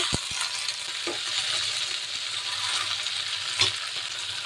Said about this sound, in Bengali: সরিষার তেলে ভেজে নেব আর একটু ভেজে নেব।